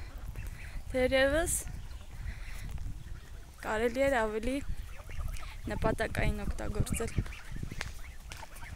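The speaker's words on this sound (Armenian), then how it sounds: "Եկել ես բադիկներին տեսնես։" Ducks and geese honking at Artashat lake, three loud bursts of nasal calls a few seconds apart, close by, with someone talking in between and outdoor ambience underneath.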